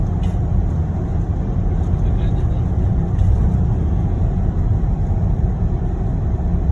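A motorcycle engine rumbles steadily on a road in Davao del Norte, a continuous low drone with passing traffic noise around it.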